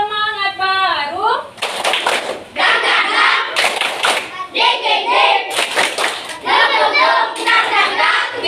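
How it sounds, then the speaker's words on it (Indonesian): Fifth-grade pupils performing a new spirit-clapping routine in a classroom: sharp, loud clusters of synchronized claps in repeating beats, separated by chanted lines from the children and a leading adult voice. "Lanjut, tepuk semangat baru."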